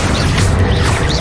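Accio summoning spell effect from the Hogwarts Legacy video game, a dense low rumbling whoosh with crackling magical texture sustained loudly through the moment, no talking.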